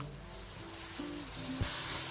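Spices and masala tempering sizzle steadily in hot oil for a Pakistani aloo matar curry, a constant close hiss with faint stirring and a small clatter near the end, with no talking.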